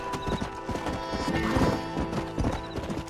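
Hooves clip-clop steadily from a horse in the video game Red Dead Redemption, close and fairly loud, with a neigh mixed in over light background music.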